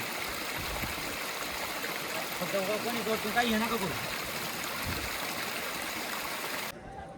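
A steady rush of flowing water from a stream on a monsoon trek at Harishchandragad, constant and fairly close, with a person's voice briefly rising over it midway.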